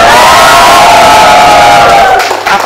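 A loud studio audience cheers and shouts together at a television show, a dense sustained roar that fades slightly near the end.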